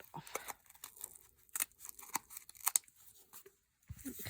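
Scissors snipping through craft material while making a Brigid doll, a few short dry cuts and crinkly snips spaced out, close and quiet, with brief pauses between them.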